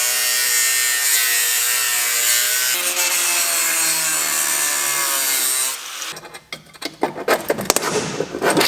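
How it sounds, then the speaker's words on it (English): A cutoff wheel grinds through the seam of a stainless steel heat shield from a header, a loud sustained high whine that drops away near the end into scraping and rattling handling sounds. "So the best method I can think of to get this apart is to just use the cutoff wheel and"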